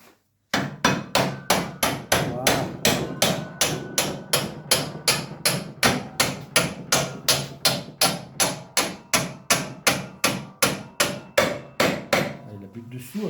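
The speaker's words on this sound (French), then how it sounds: "Taper un petit peu avec le marteau." Steady, evenly spaced hammer blows strike metal while a shock absorber is being fitted, about two blows a second for over twelve seconds, close and sharp.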